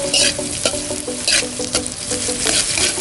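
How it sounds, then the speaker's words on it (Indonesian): Shallots and chili fry in a pan beside a river, with loud close sizzling and repeated scraping stir strokes that add rhythmic clatter over the crackle. "Kita goreng dulu biar agak harum."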